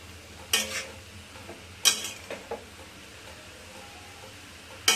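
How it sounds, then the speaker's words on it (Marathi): Grated carrot halwa being stirred in a pan, heard as a few sharp spoon scrapes against the metal at irregular intervals over a soft, faint sizzle, close up with no voices. "एकदम छान असं हलवत राहायचं"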